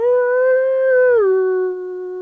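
Wolves howl in one long, loud, sustained wail that holds steady, then slides down in pitch and settles into a lower drawn-out note, with nothing else heard.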